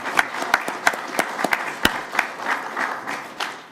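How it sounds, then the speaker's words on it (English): A small audience at a town hall meeting claps, with a few sharp, distinct claps standing out over a thin, scattered applause that continues steadily before tapering slightly. "give a guy like Bo a hand of applause"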